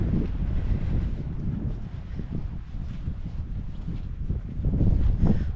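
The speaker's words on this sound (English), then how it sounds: "Ooh, it's windy." Strong wind on a high hilltop buffets the microphone with low, gusty rumbling that rises and falls, no voices present.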